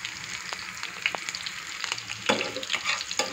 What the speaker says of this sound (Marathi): आता सर्वप्रथम मी जो कांदा आहे तो ह्याच्यामध्ये तळून घेणार आहे